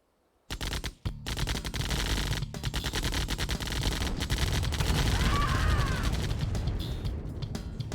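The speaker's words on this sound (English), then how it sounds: "the rockets are firing over the mountains here just to try and get some damage" Rockets streaming off launchers in the real-time strategy game C&C Remastered, in a dense, unbroken barrage of crackling, popping bursts that rolls on loudly for several seconds without pause.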